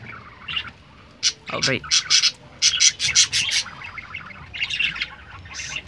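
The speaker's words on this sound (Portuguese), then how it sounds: "Eu só vou ficar um pouquinho só mostrando aqui os periquitos mesmo" Pet budgerigars in a cage let out bursts of bright, rapid chirps and twitters at close range, clustered in quick runs with short gaps, while a person briefly speaks over them.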